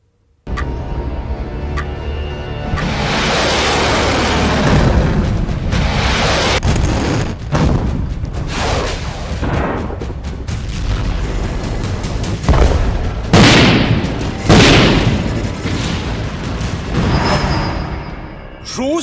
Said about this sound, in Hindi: रूस में बहुत बड़ा धमाका हुआ।